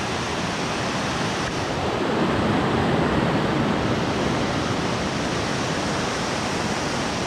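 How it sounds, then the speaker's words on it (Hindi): A glacier-fed river rushes near a waterfall in the Spiti Valley mountains, a loud, dense, unbroken roar of churning water that fills the whole stretch without pause or voices. "और जो ये नदी की आवाज़ आ रही है"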